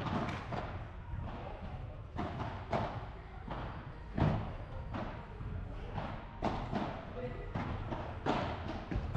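Padel ball being volleyed on a court during a P100 tournament match, a run of sharp hollow thuds in an irregular rally rhythm, mid-distance, with voices talking over it.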